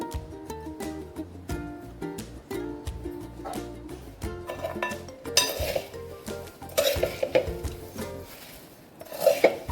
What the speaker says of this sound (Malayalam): നന്നായിട്ട് മിക്സ് ചെയ്ത് കൊടുക്കണം